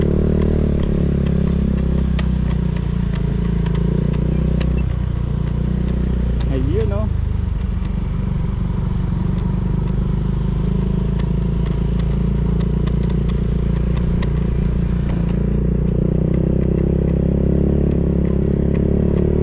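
A motorcycle climbs a rough, unpaved uphill road on a dry day, its engine droning loud and close throughout with clattering from the rough surface. A voice speaks briefly over it.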